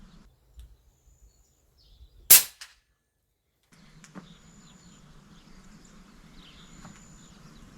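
A single sharp crack from an airgun fired through a suppressor, close and brief, standing out against quiet outdoor background with faint birdsong afterward.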